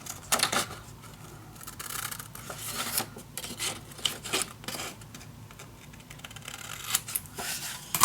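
Scissors snipping through a paper piece for a cozy winter mini album, with soft repeated cuts, rubbing and rustling of paper close up over several seconds.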